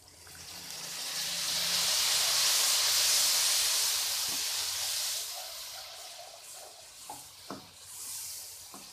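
Water splashed into spiced masala frying in a pan for a potato and egg curry sets off a loud, broad hissing sizzle that swells for about five seconds, then settles into softer crackling with a few sharp pops.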